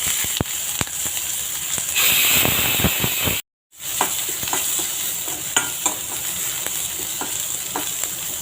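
Green chillies, garlic and curry leaves frying in a pan, a steady loud sizzle with frequent sharp stirring scrapes and taps, broken by a brief silent gap before the sizzling resumes.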